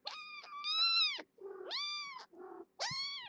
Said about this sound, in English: You got good, healthy kittens here.